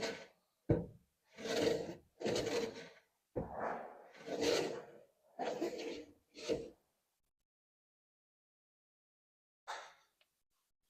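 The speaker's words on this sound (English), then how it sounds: "Still hearing a little bit of a scuff on the side." Waxed wooden drawer of a Danish dresser sliding in and out, its side scuffing against the case: a series of close, dry rasping strokes, a pause of silence, then one more brief rub.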